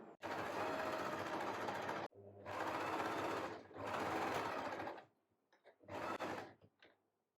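A sewing machine stitches a back-open blouse in several loud, fast whirring bursts separated by short pauses, ending with a few brief stutters of stitching near the close.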